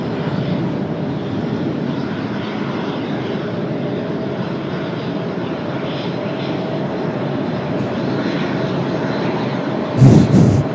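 An airliner powers up and rolls for takeoff from runway 30 at Washington Dulles on a cloudy day, a constant loud engine roar holding steady throughout.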